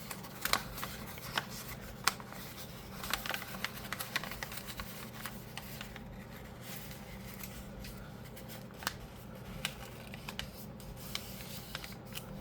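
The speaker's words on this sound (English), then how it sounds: "I'm going to pull this one and opposite fold it, but along that same line" Watercolor paper ephemera being folded and handled, with faint crisp crinkles, rustles and scattered small taps over a quiet steady background hum, no talking.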